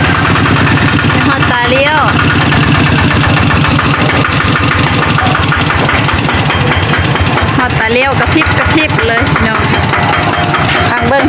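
A 10-horsepower Kubota ZT100 Plus small diesel engine runs loud and close with a steady, chugging idle rhythm, mechanical clatter and occasional voices mixed in throughout.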